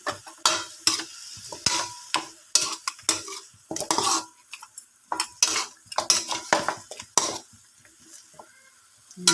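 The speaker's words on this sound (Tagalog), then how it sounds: "So yan guys, halo-haloin lang natin." Pork pata tim with soy sauce is stirred in a pot, with a utensil scraping and clinking against the metal in irregular close bursts over a faint sizzle and no talking.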